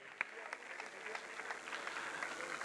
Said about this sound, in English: these claps should not stop for Chandrakant Bhai Chothani